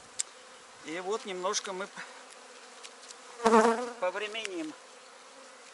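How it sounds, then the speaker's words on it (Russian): Bees at a hive give off a buzzing that rises and falls in short wavering bursts, close and clear against a quiet background, while someone speaks briefly between the bursts. "Маточка будет работать, пчелки будут заняты."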